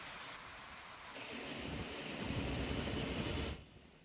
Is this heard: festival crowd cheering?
no